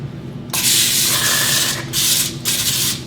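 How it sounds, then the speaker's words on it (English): Several hissing bursts of aerosol spray, close and loud, with brief gaps between the sprays. "And for extra measure, I just give it a spray of Pam."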